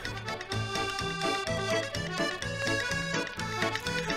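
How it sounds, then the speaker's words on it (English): Music plays from a vinyl record through a handmade phono cartridge, a full band mix with steady rhythmic bass and percussion, continuous and moderately loud, with no talking. "Listen to this cartridge."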